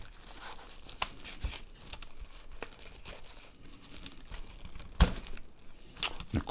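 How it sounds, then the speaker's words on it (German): A plastic bag being opened, with continuous close crinkling and rustling and a few sharper tearing snaps toward the end, no speech. "Wo haben wir denn hier den Anfang von der Tüte?"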